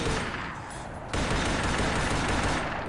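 Dense, loud bursts of rapid gunfire in the video game Combat Task Force 121 rattle almost continuously, briefly easing before surging again, with no voices.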